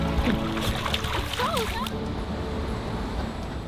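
Water sloshes and splashes continuously as a dog swims and paddles through it, with a faint voice briefly in the background.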